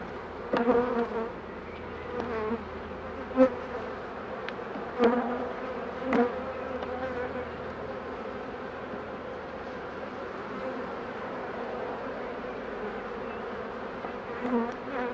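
Honeybee colony buzzing during a hive inspection, a steady droning hum with individual bees whining past close by and occasional louder passes.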